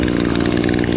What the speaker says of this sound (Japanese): 一発でエンジンかかりますね